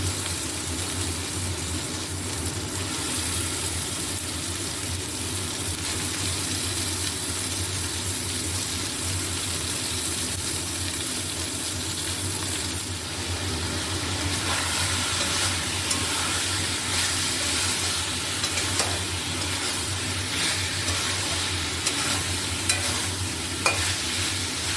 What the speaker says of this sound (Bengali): এবার এর মধ্যে মাংসগুলো দিয়ে দেবো। মশলাটা কষা হয়ে যাচ্ছে।